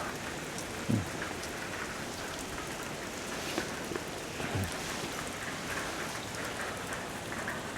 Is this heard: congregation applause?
no